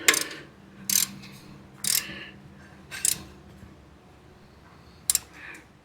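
A torque wrench tightens the flanged nuts on a Weber carburetor being fitted to a Jeep 4.2 engine, set to 12 foot-pounds. Five sharp, separate ratcheting clicks sound close and fairly loud, spaced about a second apart over a quiet background.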